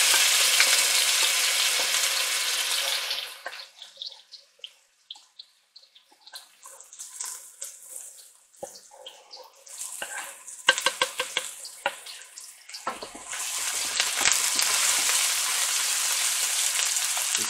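Onions hitting a hot pan for fried rice, with loud steady sizzling at the start and end and quieter stirring and clatter in between.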